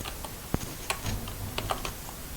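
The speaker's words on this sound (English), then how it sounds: "we can type here" Scattered keystrokes click on a computer keyboard in short, irregular bursts, close and fairly quiet, with no talk.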